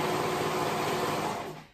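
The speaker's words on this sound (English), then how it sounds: "I'm using a new serger." A new serger stitching fabric, a steady, fairly loud mechanical whir that runs continuously before winding down at the end.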